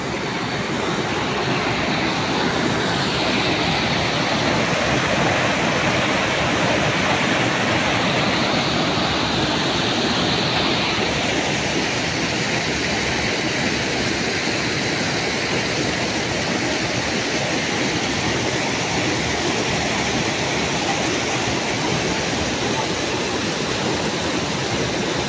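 Water from a cold spring rushes down a creek at Castanas in Abuyog, Leyte, as a constant, dense splashing roar that holds steady from start to finish with no voices over it.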